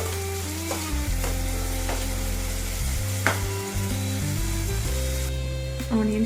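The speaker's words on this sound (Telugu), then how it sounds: "ఆనియన్స్ వేగుతున్నాయి కదండి" Thinly sliced onions fry in a pan for a spicy goat head curry, a steady close sizzle under repeated scraping and clanking strokes of a ladle stirring against the metal pan.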